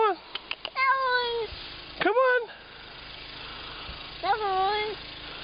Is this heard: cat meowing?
yes